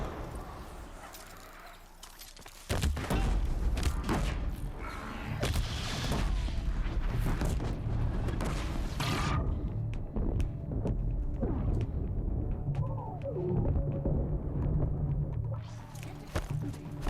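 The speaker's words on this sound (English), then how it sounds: "the explosion got him." Explosion in the video game Horizon Zero Dawn: a sudden heavy boom that opens into sustained rumbling combat noise, with crackling impacts and scattered bursts over a dense low roar, loud and close.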